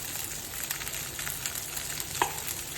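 Food fries in a pan with a steady sizzle, broken by scraping stirs and one sharp utensil knock near the end, with no voices.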